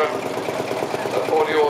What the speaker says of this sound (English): single cylinder, two stroke diesel engine